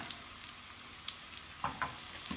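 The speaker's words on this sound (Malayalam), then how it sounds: "കടുക് പൊട്ടി അതിലേക്ക് ചുവന്നുള്ളി ചേർക്കാം." Sliced shallots sizzle in hot oil with mustard seeds as tempering for a homestyle drumstick and pumpkin curry. A steady close frying hiss builds, with a few sharp pops and crackles near the end.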